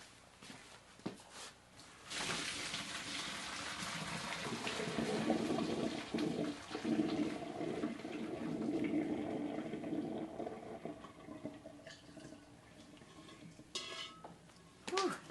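Cooked pasta water draining in a kitchen sink: a steady rushing, splashing pour that runs loud for most of the stretch, with a few clinks of a pot, then tapers off.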